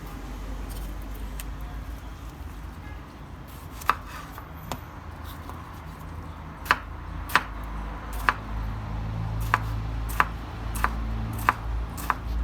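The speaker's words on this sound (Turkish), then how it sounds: "Şimdi de tantuninin yancılarını doğrayalım." A knife taps crisply on a cutting board chopping tomatoes in steady, evenly spaced chops, close up over a low background hum.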